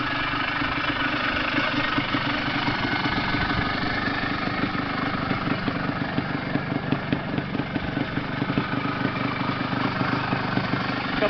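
A 1980 Suzuki PE 250 motorcycle engine idles close by with a steady rough putter, rising slightly in brief revs, with no talk over it.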